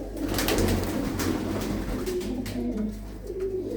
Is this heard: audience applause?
no